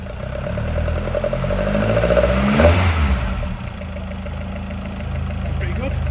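A 1979 Ford Escort RS2000 engine runs close by and loud, idling steadily with a brief rev partway through before settling back to a rough idle, with a voice faintly present.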